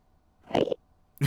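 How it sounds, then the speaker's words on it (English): Minecraft Enderman ambient noises, warbling garbled vocal-like sounds resembling distorted speech, come in two short bursts from the game, moderately loud with quiet background between them. "the Endermen have some interesting sounds compared to other mobs."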